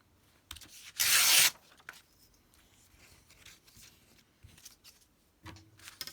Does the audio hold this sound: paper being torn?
yes